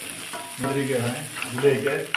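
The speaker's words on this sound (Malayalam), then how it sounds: "ജീരകം, മുളക് നല്ലവണ്ണം ഫ്രൈ ചെയ്തെടുക്കുക." Cumin seeds and chilies fry in hot oil in a pan for Chettinad chicken curry, giving a steady, close sizzle while someone speaks briefly over it.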